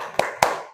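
A classroom of children doing a rhythmic spirit clap, two sharp, loud, close claps spaced a quarter second apart with a short ring after each.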